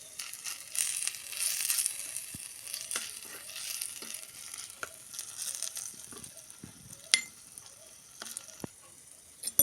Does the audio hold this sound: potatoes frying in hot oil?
yes